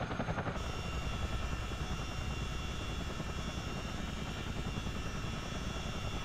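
A CH-47D Chinook helicopter taxis in Microsoft Flight Simulator, its rotors and engines giving a steady, dense, even drone that continues throughout with no voices.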